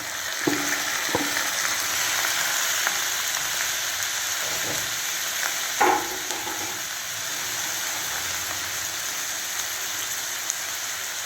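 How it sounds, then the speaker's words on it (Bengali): Marinated chicken, seasoned with salt and soy sauce, fries in a pan with a steady, dense sizzle, close and continuous, broken by a few clicks and clatters from stirring; no talking. "চিকেনটাকে একটু ভাজা ভাজা করি"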